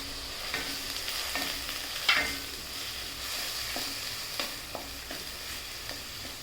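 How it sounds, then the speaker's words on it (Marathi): Onion and ground whole masala frying in oil for a veg Maratha kofta curry, a continuous close sizzle broken by repeated scraping stir strokes and one sharper clatter, with no talk. "चांगला परतून घ्यायचा तेलामध्ये."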